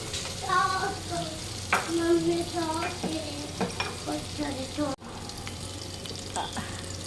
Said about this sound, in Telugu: ఇప్పుడు ఇందులో అల్లం వెల్లుల్లి పేస్ట్ వేద్దాము.